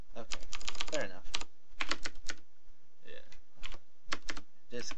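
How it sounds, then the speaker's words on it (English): A noisy computer keyboard clatters under rapid typing, bursts of loud, close clicks separated by short pauses, with faint room noise between the keystrokes. "This keyboard does so much racket."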